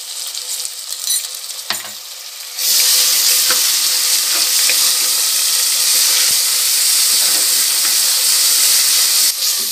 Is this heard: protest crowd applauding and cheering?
no